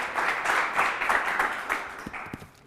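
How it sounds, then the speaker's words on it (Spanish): Studio audience at a late-night talk show breaking into applause, a dense wash of clapping that fades out into a few scattered last claps. "Por favor, un fuerte aplauso para Blanca Aguilera."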